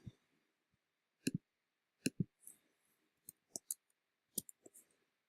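Keys are clicked while an answer is typed in, sharp isolated taps in small pairs and singles spread irregularly over several seconds, close and quiet against near silence.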